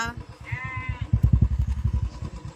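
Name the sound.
sheep bleating in reply to a call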